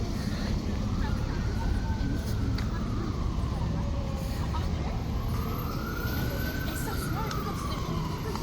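An emergency siren wails in slow rising and falling sweeps on a Montreal street near Papineau Metro after a fireworks event and a police intervention, heard at a moderate distance over steady crowd and street noise.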